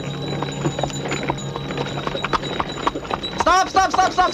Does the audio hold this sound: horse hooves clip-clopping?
yes